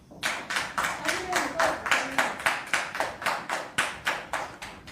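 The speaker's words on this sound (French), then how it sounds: "Merci de recevoir Monsieur Lokoulé sous vos applaudissements" Audience welcoming a guest with rhythmic clapping in unison, about a dozen loud, evenly spaced claps, with faint voices underneath early on.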